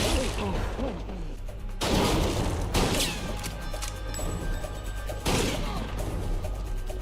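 Shotgun fire in a TV episode comes as several loud, sharp blasts in quick succession, mixed with crashes and movement noise and a little voice.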